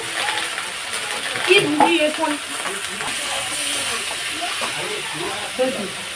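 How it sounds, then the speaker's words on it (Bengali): Curry sizzles as it is stirred and sautéed in a hot pan in a home kitchen: a steady, close frying hiss runs throughout, with brief stirring scrapes. "এবার তরকারিটা একটু কষবো"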